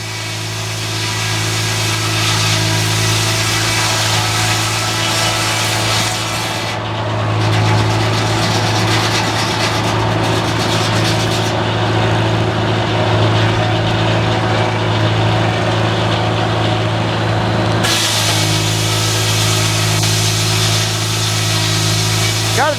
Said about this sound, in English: There's a tractor that did all the work today.